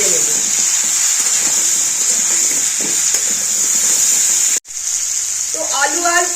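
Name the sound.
jackfruit and potato frying with salt and turmeric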